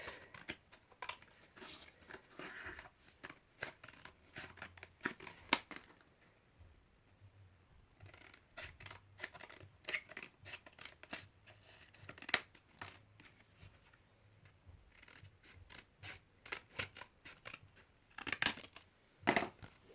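Paper picture being cut out with scissors for a Christmas ornament and centerpiece, with close, irregular snips and paper crinkles scattered through a quiet room, pausing briefly midway.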